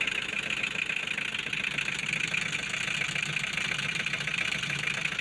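A motorcycle engine idles steadily after a tune-up, still not warmed up, with a constant close, loud mechanical hum and rapid, even firing throughout, no voices.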